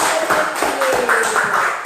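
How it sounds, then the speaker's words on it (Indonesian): Applause in an elementary classroom, a group of pupils clapping steadily for a classmate's correct answer, dense and continuous throughout. "Betul, tepuk tangan lagi"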